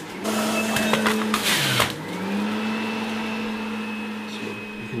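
A home-built apple juicing machine in a kitchen starts up with clattering, then settles into a steady mechanical whine and hum that runs on evenly and fairly close.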